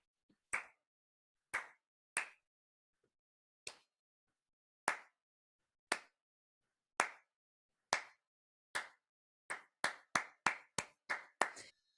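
A single person claps hands in a quiet room, sharp isolated claps at irregular intervals that bunch into a quicker run toward the end, each a crisp crack with a short decay.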